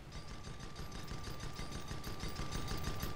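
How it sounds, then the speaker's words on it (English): A side-mounted Gatling gun on an airship in a multiplayer sky battle fires continuously, a rapid, even rattle of shots held steady for several seconds over a broad engine-like roar. "Let's see that side Gatling."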